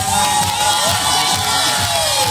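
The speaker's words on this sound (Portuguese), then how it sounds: "muita gritaria para Lilian Stingara" A crowd at a Baile de Fraldas party event at Porto Dragão cheers and shouts loudly and continuously, with overlapping high-pitched voices filling the space.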